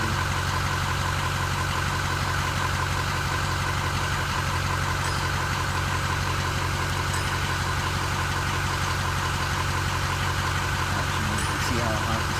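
A Ford 6.0 Powerstroke diesel truck engine idles steadily, warmed up, with a loud, rumbling drone that stays constant throughout, with muffled talk faintly underneath.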